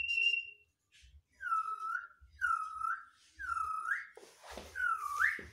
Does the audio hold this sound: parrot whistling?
yes